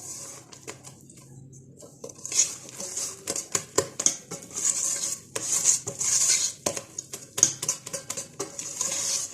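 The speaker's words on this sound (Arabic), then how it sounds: "كنحاول نمزج هاد الخليط غير بشويه" Cake batter for a no-bake layered cake being stirred in a bowl, with irregular scraping strokes and light clinks of the utensil against the bowl, moderately close and with no talk.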